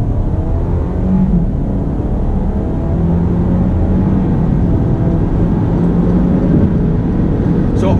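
From inside a 2019 Alfa Romeo Giulia accelerating out of a U-turn, a steady low engine drone and road rumble hold constant throughout, with no voices.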